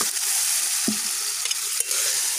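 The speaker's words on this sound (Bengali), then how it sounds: "যতক্ষণ তেল ছেড়ে দেয় ততক্ষণ কষিয়ে নেবো" Chicken and potato masala frying in oil in a pan, a loud close sizzle with occasional scraping stirs of a spoon, steady throughout the short moment with no voices.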